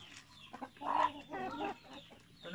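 Barred Plymouth Rock chickens on a farm cluck and murmur nearby in a few short bursts, with soft background barnyard noise.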